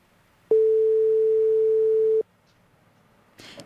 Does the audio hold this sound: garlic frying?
no